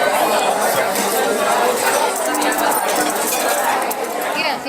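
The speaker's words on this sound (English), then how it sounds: "you can see there's a cutlery sound as well" Cutlery and dishes clink steadily in a busy canteen, with metal tapping against plates close by under constant loud crowd chatter.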